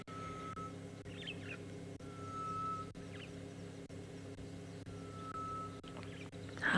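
A grey-headed bush-shrike calls in the distance on an afternoon safari in South Africa, long slow pure whistled tones repeated at intervals over a low steady rumble and faint chirps.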